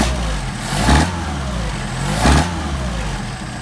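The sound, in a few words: Mercedes 190SL engine revving with Solex 44PHH carburetors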